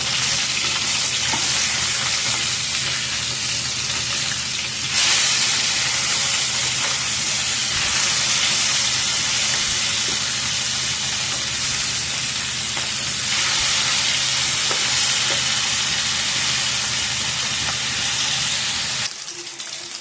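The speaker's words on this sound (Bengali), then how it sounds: "এবার আমি মাছগুলোকে ভেজে নেব।" Fish frying in hot oil in a wok for a Bengali green-banana fish curry: a loud, continuous close sizzle that swells in bursts and drops off sharply at the end.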